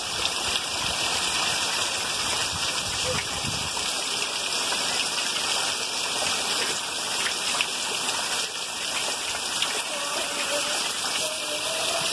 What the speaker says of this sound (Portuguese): É a chuva que o papai manda.